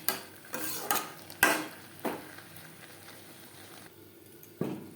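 Potatoes being stirred with spices in a pan over a medium flame, with a few sharp scrapes and clinks of a utensil against the pan over a faint, quiet background, no talking.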